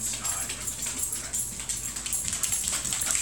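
A corgi whimpers and whines softly at close range, faint high cries over a quiet room with light background noise.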